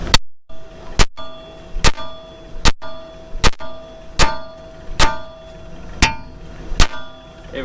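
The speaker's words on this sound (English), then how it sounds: "take a hammer, smack right here, it'll pop off" Ten sharp metallic clangs from a hammer striking a tie rod end on a GMT 400 truck front end, evenly spaced about a second apart, loud and close, with ringing tails.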